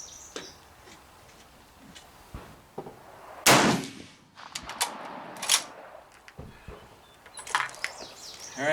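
A single loud rifle crack from a 1903A4 at an outdoor range stands out amid scattered small clicks and handling noises, followed by quieter rustling.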